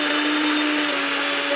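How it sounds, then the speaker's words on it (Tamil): A kitchen mixer grinder whirs steadily and loudly as it grinds sautéed onion, garlic and chillies in its jar for a curd chutney, with a constant motor hum and no talking. "வதக்கின எல்லாத்தையும் மிக்ஸி ஜாரில் போட்டு அரைச்சி எடுத்துங்க"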